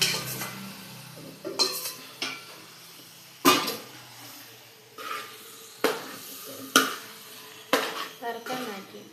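Marinated chicken dropped into hot spices in a pan for spicy chicken curry, heard as a series of clinks and scrapes of a spoon against the pan, with faint sizzling under the stirring.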